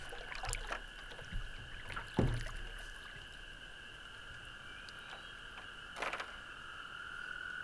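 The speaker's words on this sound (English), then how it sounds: "Out for an evening paddle." Quiet evening paddling on a Vermont lake, with soft paddle splashes and knocks against the boat at intervals and a steady chorus of frogs or insects droning in the background.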